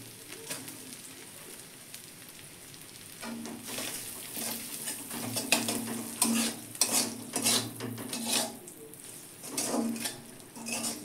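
Onions frying in a pan hiss under repeated scraping and clinking strokes of a spatula, the stirring coming in uneven bursts close by over low heat.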